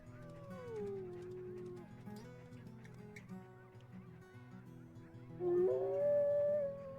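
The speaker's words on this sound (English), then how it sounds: "Malachite is howling for us, so we'll answer him back" In the video game WolfQuest, a wolf's drawn-out howl glides downward over a repeating music bed, and a second, louder rising howl answers near the end.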